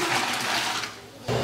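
Water gushes into a large batch of rice for tomato bath at a fair kitchen, a loud rushing pour that eases off briefly before surging again.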